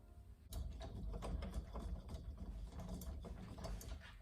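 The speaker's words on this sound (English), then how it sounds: "and you screw them in" Door knob screws being turned in by hand during a door knob installation, giving a continuous run of small metallic ratcheting clicks and scrapes, close up, with no talking.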